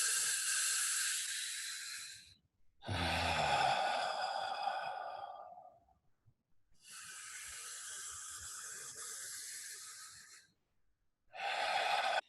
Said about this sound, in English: Feel your stomach relax and distend as you breathe in.